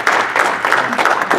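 A church congregation claps together in loud, close applause with a regular rhythm of hands beating over a short stretch.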